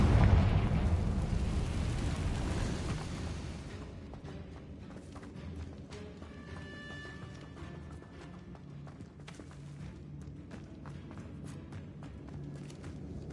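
A Confringo spell explosion in Hogwarts Legacy goes off inside an abandoned cave, with a loud, rumbling burst at the start that fades over about four seconds into quieter debris clatter and ambient game sound.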